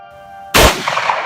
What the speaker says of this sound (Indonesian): Satu tembakan Helena tepat mengenai paha kanan Rangga, membuat Rangga jatuh dalam posisi tersujud